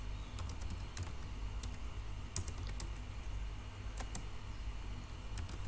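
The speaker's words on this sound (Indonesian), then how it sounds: "Kita ketikkan lagi interface" Quick, irregular clicks from a computer keyboard, sharp taps scattered over a low steady hum, entered while setting up VLAN interfaces on a network switch. No speech.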